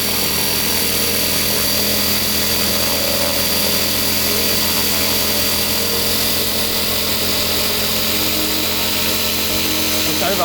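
A homemade radio-controlled helicopter's electric motor and rotor whine loudly and steadily up close, a dense continuous drone with a buzzing mechanical edge filling the whole stretch.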